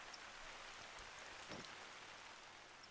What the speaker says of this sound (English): You can see now that the rain is quite heavy.